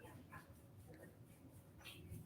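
A dog whimpers and yips softly in a quiet room, faint short whines scattered through the moment, with people chatting nearby.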